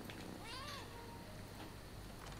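A cat in the video game Rise of the Ronin gives one drawn-out meow with a rising and falling pitch, faint and set against steady game ambience, followed by a few softer noises.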